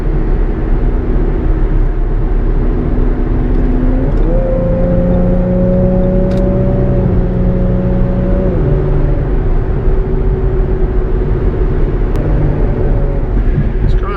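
Tuned 3.7L Ford Mustang with a Borla S-type exhaust and some suspension work, heard from inside the cabin as it accelerates through long gears, a steady loud engine drone rising in pitch with shifts.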